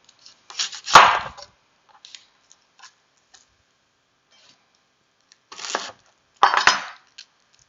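Knife chopping an onion on a cutting board, with a few sharp, isolated cuts separated by quiet pauses and a couple of fainter taps in between.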